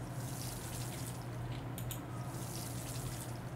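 Water poured over black bean crops in the farming game Pumpkin Days, a steady soft splashing trickle running continuously at moderate level with no talk.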